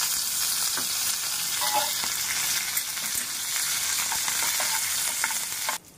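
Cumin, green chili and curry leaves crackle and sizzle loudly in hot ghee, a continuous bright frying hiss with scattered pops, close by and alone, cut off abruptly at the end.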